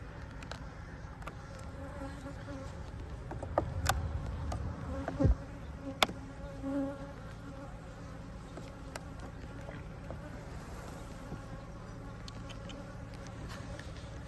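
Honey bees buzz around an open hive during an inspection, a steady low drone from many insects close by, broken by a few sharp clicks and knocks from handling the frames.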